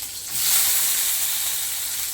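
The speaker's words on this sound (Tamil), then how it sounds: "இப்போ வந்து நம்ம வெங்காயம் தக்காளி எல்லாத்தையும் வதக்கி" Onion and tomato sautéing in hot oil for puffed rice chutney, a steady close sizzle that swells soon after they hit the pan and then holds evenly.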